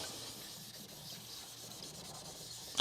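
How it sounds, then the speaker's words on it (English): Dirty 8000 grit sharpening whetstone being cleaned, giving a steady, soft rubbing and scrubbing hiss throughout, fairly close and even in level with a brief louder scrape at the very end. "But I'm going to clean the stone first."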